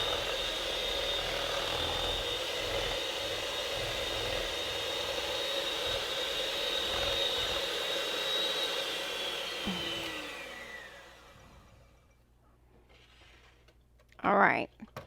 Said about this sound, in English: And get those eggs mixed in there really well. And go turn that mixer up high.